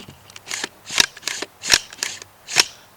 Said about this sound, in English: I'm going to ride the bolt home, put empty mag in